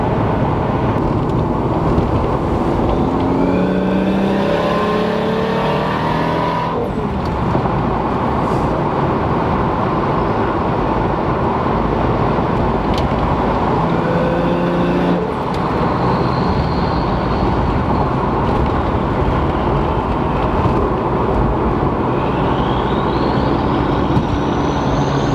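A Lexus IS300 fitted with a CX Racing turbo kit drives along, its engine droning loudly and steadily from inside the car with road noise, rising in pitch as it accelerates through gears.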